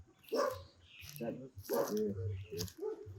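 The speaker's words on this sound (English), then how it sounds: "Dog is bad, bro. Dog growled, that means no." A dog growls in low, rumbling bursts close by, mixed with people talking at a lagoon in Bacalar.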